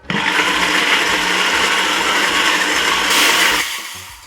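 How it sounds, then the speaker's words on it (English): A countertop blender runs at full power blending a chicken marinade with a little water, a loud, steady whirring roar that rises in pitch near the end before cutting off. "Cover the blender and I'll blend away."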